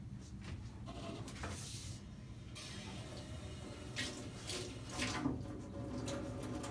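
Water splashes and trickles as a sponge is wetted and squeezed out for glazing a ceramic plate, a faint, steady wet patter with a few louder squeezes near the end.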